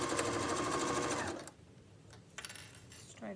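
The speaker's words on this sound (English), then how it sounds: "now I sew across that section that has the necktie" A sewing machine stitches across the necktie section of an apron in a fast, even mechanical chatter for about a second and a half, then falls quiet apart from faint handling sounds and a short voice at the end.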